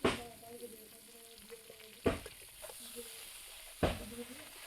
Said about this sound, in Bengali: এরপর আমি ঝিঙেটা হালকা নেড়ে নেব